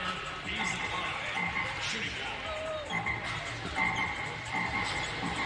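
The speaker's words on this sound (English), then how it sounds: "The croaking of the frogs." Frogs croak repeatedly over the steady roar of an arena crowd at a Baylor versus TCU college basketball game; voices mingle in the background.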